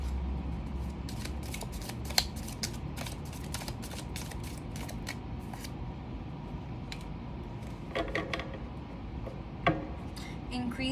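Tarot cards are shuffled by hand in a continuous soft rustle and riffle, with a few crisp clicks and snaps standing out. The sound is fairly quiet and close.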